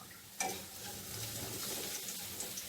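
Garlic frying in oil in a pan gives a steady, close sizzle, opening with a sharp burst as it hits the hot oil, then a continuous crackle with a few faint ticks and no voices.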